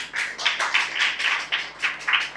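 Listeners at a Telugu Christian sermon clap in response. A few sharp, separate claps are heard in irregular bursts, thin rather than full applause and moderately close.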